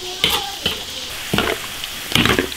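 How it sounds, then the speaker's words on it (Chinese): Celery, ginger and onion slowly frying in oil over low heat, a constant gentle sizzle broken by several louder scraping stirs, close by. "芹菜，把它的香味炸出来。 小火慢慢炸，慢慢熬。"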